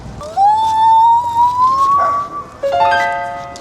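A woman's high, sustained shriek rises and wavers like a siren, then breaks into a second shrill cry, loud over faint background noise, in Los Angeles.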